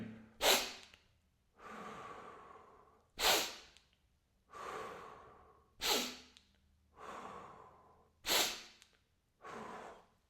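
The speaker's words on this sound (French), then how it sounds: "On inspire fort par le nez et on expire par la bouche." Forceful breathing exercise: four cycles, each a sharp, loud inhale through the nose followed by a longer, whooshing exhale through the mouth, evenly paced and close, with no speech.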